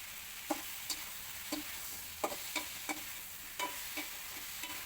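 Fish curry being sautéed in a pan with cumin powder just added, a steady low sizzle carrying a series of sharp spatula scrapes and taps at irregular intervals, fairly quiet and close with no voices.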